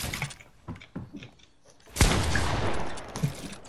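Gunfire in Fortnite, a few scattered light shots followed by a loud burst of shooting with a sharp crack, close and full, with no talking.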